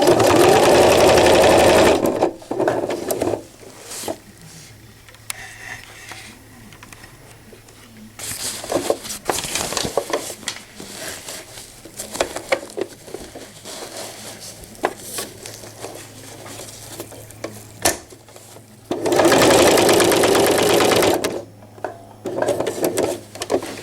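A sewing machine stitches velcro onto a cloth diaper in loud, rapid bursts of a couple of seconds each, separated by quieter stretches of fabric handling and small clicks.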